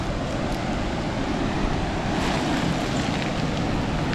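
Strong ocean waves wash and break continuously at a beach resort in Dinadiawan, Dipaculao, Aurora, with a steady roaring surf and some wind noise.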